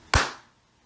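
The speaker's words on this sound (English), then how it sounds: "I can clap a quarter note with my hands" One sharp hand clap sounds close by, alone and crisp, with a short decay, marking a single quarter note in a music lesson.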